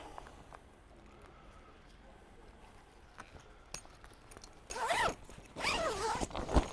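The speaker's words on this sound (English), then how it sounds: "Simply zips on, and on the other end." A zipper runs along the gusset of a van awning canopy, two longer rasping zipping strokes up close after quieter rustling and handling of fabric.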